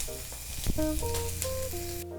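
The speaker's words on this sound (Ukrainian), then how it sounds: "М'яско з овочами смажиться" Chicken, onion and carrot sizzling in a hot pan for pilaf, a soft steady crackle with faint clinks of a utensil, quiet and close.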